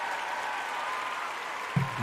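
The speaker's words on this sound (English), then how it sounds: "Let me get that big cheer, yeah. Hell yeah, big claps, yo." A canned applause sound effect, a steady wash of clapping from a crowd, moderately loud and continuous for about two seconds, with a short voice near the end.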